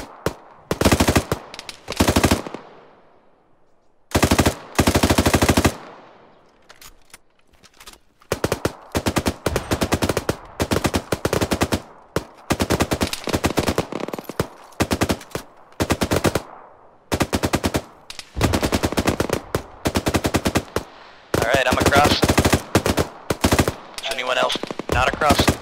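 Loud bursts of automatic machine-gun fire in the military video game Arma, during a ShackTac session, repeat across the whole stretch with short silent gaps between volleys.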